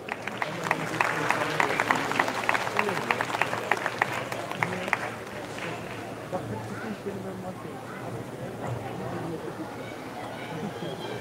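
An audience at a BMX World Cup launch event applauds a speaker invited to the stage, loud crowd clapping with sharp individual claps that thins and fades after about five seconds into murmuring room noise and voices.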